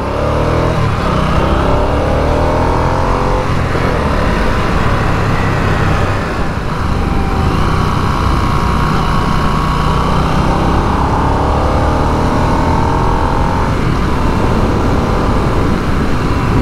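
A Harley-Davidson Nightster motorcycle engine roars continuously up close, rising and falling as it revs and pulls through the gears, loud and unbroken.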